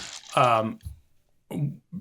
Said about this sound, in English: Let me clear my throat before we end this.